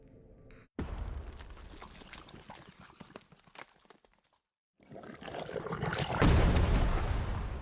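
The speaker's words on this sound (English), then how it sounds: "got a ooze explosion," Ooze explosion loop for a muddy terrain fantasy map: a burst of thick liquid sound followed by sloshing, pouring and gurgling mud bubbles, a brief near-silent gap, then louder churning bubbling that swells toward the end, with no voices.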